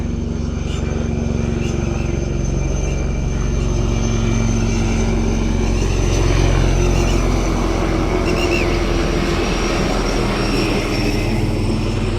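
A steady drone of an airplane engine circling repeatedly overhead, swelling slightly in the middle before easing, with no talk.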